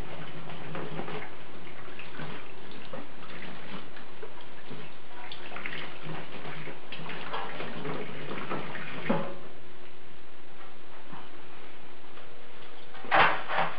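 Water running steadily from a tap as a metal part is rinsed off in a sink, a continuous close splashing wash with a brief sharper knock near the end.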